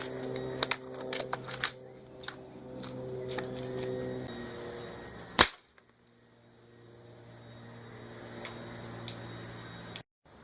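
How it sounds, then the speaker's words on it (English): A Gamo Urban Maxxim air rifle fires .22 H&N Barracuda Green pellets at a tactical bump helmet, with one sharp loud crack midway and a second sharp report near the end, amid light mechanical clicks and handling noise. "what about a 22 caliber H&N Barracuda green coming out of my Gamo Urban Maxxim?"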